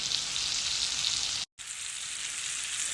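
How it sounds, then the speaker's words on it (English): Stuffed chicken breasts sizzling in a pan, a steady bright hiss of frying fat that runs continuously, close and even, broken only by a split-second gap. "So it's getting a nice sizzle"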